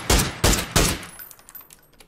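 Three loud, close shots in quick succession from a PUBG match, followed by a fading tail and scattered fainter distant pops, with no talking.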